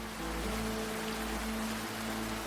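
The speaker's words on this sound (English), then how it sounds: "Rain poured down the canyons" Heavy rain pours down in desert canyons, a dense continuous hiss with a low rumble underneath, steady and enveloping throughout.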